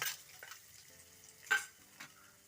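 Mustard seeds spluttering in hot oil for tomato rice: a faint, soft sizzle with a few sharp pops and one louder crackle midway, close but quiet, with no voices.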